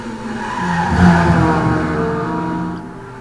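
Race cars in a racing video game bump-draft around Monza, tires squealing and engines droning close together in a loud, sustained skid that swells and fades over a few seconds.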